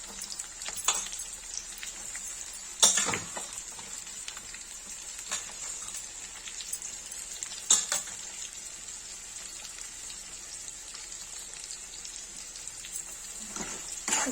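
Chopped onions sizzle in a hot pan for an egg sabji, a soft steady fry with occasional louder scrapes and clatters as the spoon stirs them, close and fairly quiet, no voices.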